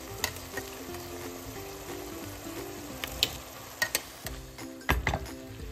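Pasta sizzles and is stirred in a pan of Calabrian sausage and porcini mushroom sauce. A close, steady frying hiss carries scattered scraping and clinking from stirring, with no talking.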